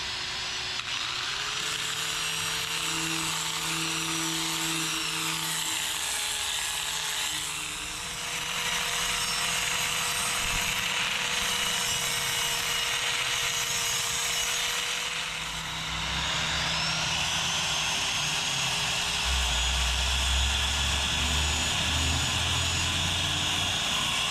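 An angle grinder runs at a steady high-pitched whine for a long stretch, dipping briefly twice as the load shifts, with a continuous loud mechanical drone and no talking over it.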